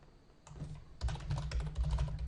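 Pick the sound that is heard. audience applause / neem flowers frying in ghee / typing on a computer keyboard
typing on a computer keyboard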